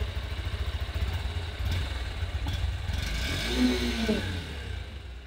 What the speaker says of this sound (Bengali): এই হচ্ছে এক্সস্টের সাউন্ড একটু শোনাই